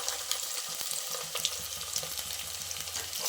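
Chopped onion with ginger garlic paste frying in a pan, a continuous close sizzle and crackle with scattered small pops and stirring scrapes, no voices.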